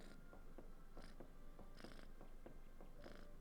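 A cartoon cat purrs in a video game, a soft continuous rumbling purr with rhythmic pulses and light chirps, quiet and alone without talking.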